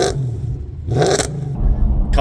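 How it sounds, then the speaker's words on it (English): Mercedes E63 AMG with the M156 V8 engine revving in two or three sharp, loud bursts, dropping back to a rumbling idle between each blip. "It just has such a unique bark to it. Like, it revs faster than anything I own."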